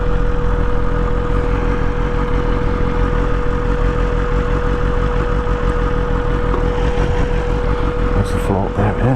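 A pirate bike's motorbike engine idles close by with a steady low rumble while being parked, with wind gusting over the mic and a sharp clatter near the end.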